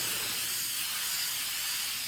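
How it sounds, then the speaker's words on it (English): Krylon gesso primer sprayed from an aerosol can onto a panel, a steady close broadband hiss that holds without a break for about two seconds. "apply it in the usual way you would do with spray paint"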